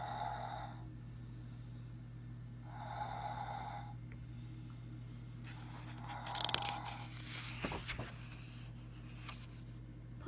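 A snoring sound effect from a children's construction site sound book, the dump truck dozing off: two slow, breathy snore swells over a steady electronic hum, followed by faint rustling and a click.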